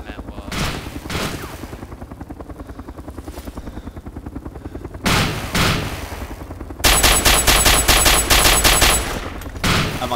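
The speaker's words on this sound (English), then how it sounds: "Oh, he's shooting at me now." Gunfire in the survival game Arma 2 DayZ Overpoch, repeated sharp shots and bursts over a constant helicopter rotor throb, growing louder and denser toward the end with rapid rattling fire.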